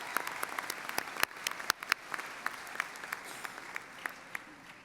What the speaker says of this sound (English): Please join me in a round of applause for all of our members of the platform party.